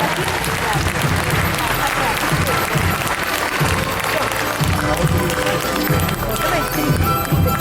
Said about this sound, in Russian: Еще раз поприветствуем аплодисментами всех наших сегодняшних конкурсантов.